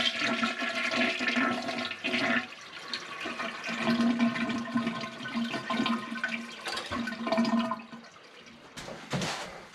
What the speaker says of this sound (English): Step two, empty the tank.